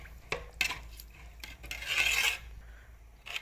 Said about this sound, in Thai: คนเรื่อยๆจนว่าข้าวเบื่อสุก